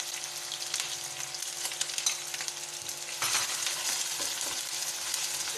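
Spices for aloo gobi with ginger and garlic sautéing in a pan, a steady close sizzle and hiss with occasional scraping stirs and small clinks, growing slightly louder midway, no talking.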